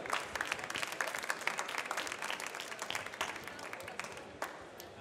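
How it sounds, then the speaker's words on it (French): A crowd applauds steadily at a coffee brewing competition, the Open Brewers Cup at Sirha 2019 in France, dense clapping filling the room at moderate loudness, with a few louder claps standing out and faint voices beneath. "On applaudit encore, s'il vous plaît, messieurs, dames."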